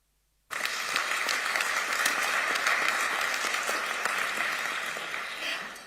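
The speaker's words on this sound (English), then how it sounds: "the Secretary General will have heard your applause" An audience at a climate conference in Berlin bursts into applause after silence, a full, steady roll of many hands clapping that holds for several seconds before fading slightly at the end.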